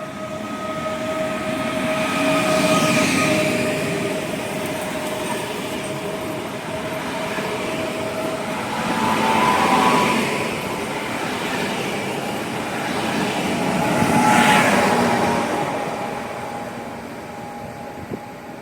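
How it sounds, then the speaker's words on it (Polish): A departing train rumbles steadily out of a station with swelling mechanical noise and brief hisses, the sound rising and falling as it moves along, with no voices. "pociąg rusza dalej w kierunku Katowic"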